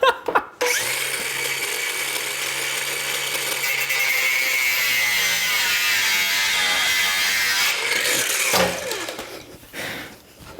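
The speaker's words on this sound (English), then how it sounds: "Don't use angle grinders to cut bolts this close to your hands." An angle grinder cuts through bolts on a wrecked motorcycle being rebuilt, a loud, sustained high-pitched whine lasting several seconds before winding down.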